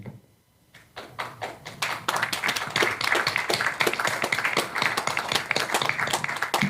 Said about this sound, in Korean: 박수 치주는 게 좋네요.